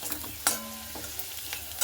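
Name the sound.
potatoes frying in hot oil in a pan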